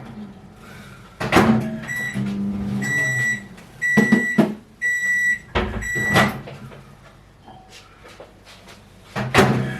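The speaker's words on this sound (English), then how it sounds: "I put that in the microwave for 30 seconds" A microwave oven heats small dishes of butter in a home kitchen, with a steady hum interrupted by several sharp repeated beeps and door or cupboard clunks.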